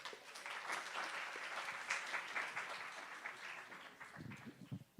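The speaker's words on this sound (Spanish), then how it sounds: "Un aplauso para Miguel Ángel." A conference audience applauds steadily for several seconds, a dense patter of clapping that thins out toward the end.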